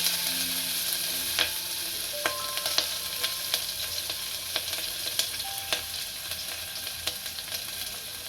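Green chilies sizzle steadily in hot oil in a pan for tomato soup, with a constant crackling hiss and sharp utensil scrapes and clicks from repeated stirring, and no talking.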